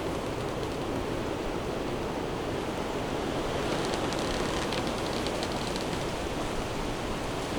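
Steady wind rushing across an outdoor bushcraft site where a bow drill friction-fire ember is being nursed, a continuous broad roar with slight gusting and no talk.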